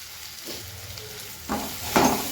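Potato and tomato dosa filling with turmeric frying in a pan, with a soft steady sizzle broken by two louder scraping stirs near the end, close up and without voices.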